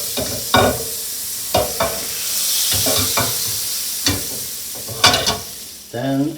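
Butter melts over lowered heat in a pan for a Swedish meatball sauce, giving a soft, steady sizzle under sharp clinks and scrapes of a utensil against the pan, several taps spaced through the moment.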